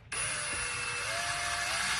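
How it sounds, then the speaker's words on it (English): A power drill pre-drills screw holes through stone while cabinets are fitted in a camper van kitchen, giving a steady, loud, continuous whine that rises slightly in pitch partway through. "I'm gonna just pre-drill through the stone"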